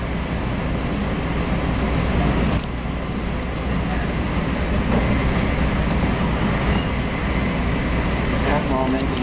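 Amtrak or MARC passenger train running at speed on the line between Washington and Baltimore, a steady loud rumble of wheels on track with faint clicks, heard from inside the moving car.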